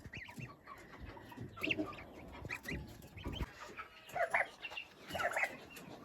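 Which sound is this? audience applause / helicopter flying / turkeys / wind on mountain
turkeys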